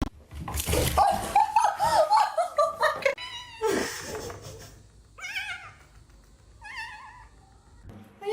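A small kitten mews several times in thin, high cries over the first few seconds, then gives a couple more short meows later on, heard close up with people laughing and chatting around it.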